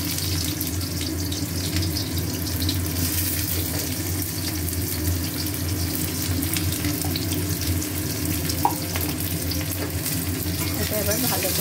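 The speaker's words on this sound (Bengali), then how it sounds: "এবারে একটু পেঁয়াজ দিচ্ছি।" Onion frying with spices in a pan, a steady sizzle and hiss that holds for the whole stretch, close and fairly loud, with faint kitchen clatter.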